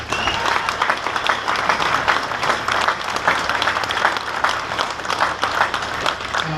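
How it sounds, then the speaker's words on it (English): A crowd applauds at an outdoor wounded veterans' motorcycle run event in Boston, with dense, continuous clapping and some cheering that holds steady throughout. "Give yourselves a round of applause."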